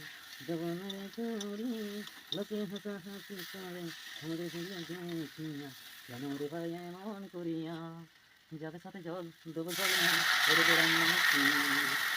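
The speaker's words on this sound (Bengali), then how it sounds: "এবার দিলাম বড়ি" Bori, small sun-dried lentil dumplings, drop into hot frying oil and break into a loud, steady sizzle near the end, following a stretch of continuous sung talk that carries on over the frying.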